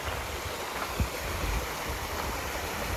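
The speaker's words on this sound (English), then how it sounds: "There's the waterfall and the cliff, and it runs all down into the valley." A distant waterfall near Dunnottar Castle in Scotland spills down a steep cliff into a valley, heard as a faint, steady broadband rush with light wind and no talking.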